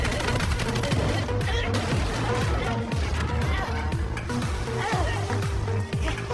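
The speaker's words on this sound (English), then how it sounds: "Fukuda on the gun platform decisively pulled the trigger of the heavy machine gun once again." Rapid bursts of heavy machine-gun fire from a boat's gun platform at Godzilla in a film hammer away continuously, loud and close, layered with rumbling booms and chaotic battle noise.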